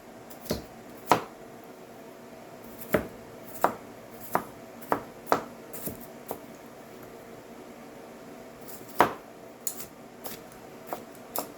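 Knife chopping leftovers on a board for stuffed tofu gives a scattered run of sharp, light cuts at an uneven pace, close by with no talk.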